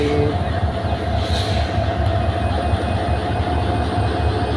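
A train at Kamalapur railway station in Dhaka gives off a loud, steady low rumble with a faint high whine on top, heard close and without speech.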